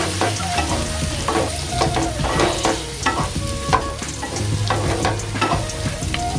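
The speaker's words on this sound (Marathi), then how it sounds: "आणि याच्यामध्ये आता मी रताळी टाकणार आहे आणि छान जरासं परतून घेऊया" Sweet potato pieces sizzle and fry in a pan for sabudana khichdi, with a steady close-up crackle and the repeated scrape and clatter of a spoon stirring through them.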